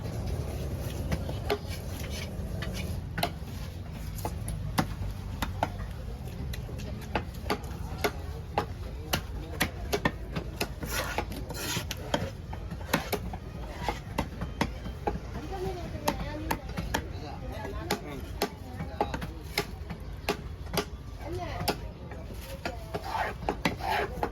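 A large fish is cut at a busy Kasimedu fish market with rapid, repeated knife chops striking hard and clear over a steady murmur of background voices and market noise.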